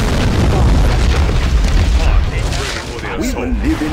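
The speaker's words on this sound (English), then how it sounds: "Let's have some rocket barrage, anyone?" Rocket barrage explosions from Command & Conquer Generals, Rise of the Reds mod, rumble in a loud continuous wall of booms, with a voice talking over the blasts.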